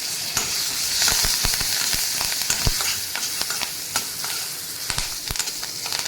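Green chillies, curry leaves and turmeric frying in a pan, a loud continuous close sizzle broken by sharp crackles and pops throughout.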